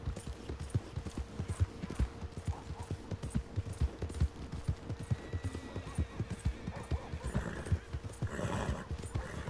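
A horse in the Western game Red Dead Redemption 2 clip-clops along in a steady, close hoofbeat rhythm for several seconds, and near the end it gives a whinny over light ambient sound.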